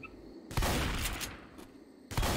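Loud bursts of gunfire in the zombie shooter Left 4 Dead 2, a sustained volley followed by a short pause and another burst.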